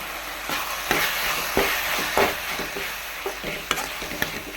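Brinjal fry with turmeric and coriander powder is stirred in a hot pan, a steady sizzle broken by a series of sharp scrapes and knocks from the spoon, close and alone with no talk.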